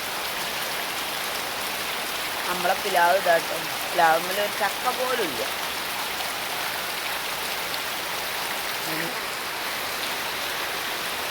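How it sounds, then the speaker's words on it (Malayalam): Heavy post-monsoon rain pours steadily over an open yard and garden plot, a dense, continuous hiss with wind and thunder around, while someone talks briefly over it midway. "എന്താ മഴ, സൂപ്പർ മഴ."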